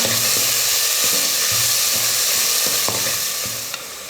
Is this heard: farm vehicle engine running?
no